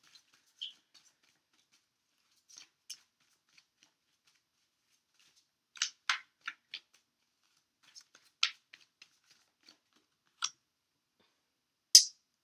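Messages from the Fairies oracle cards are pulled from the deck and shuffled, giving soft scattered flicks and rustles, quiet and close, in irregular bursts with a sharper snap near the end.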